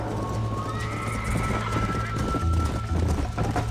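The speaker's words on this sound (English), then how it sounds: "I think you chose the wrong horse, Miss McFarland." Hooves pound in a steady gallop while a horse whinnies, loud and continuous, with faint game-style ambience behind, from Red Dead Redemption.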